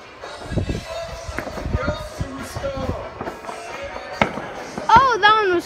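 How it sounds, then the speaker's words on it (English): Sharp booming New Year fireworks bang at irregular intervals over a freezing outdoor scene, with people talking throughout, a crackling flurry near the end. "is that a firework, guys?"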